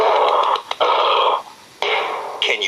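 A deep, rasping roar repeated in several long breathy bursts with short gaps, loud and close, with no talking.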